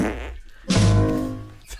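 A loud, close fart-like blast, a sputtering buzzy tone that swells suddenly and then fades over about a second, heard on a casual podcast without talk over it.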